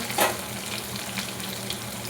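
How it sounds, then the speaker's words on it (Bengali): Potatoes fry in a pan with a faint, steady sizzle and a brief louder crackle near the start. "আলুটা মোটামুটি ভাজা হয়ে গেছে।"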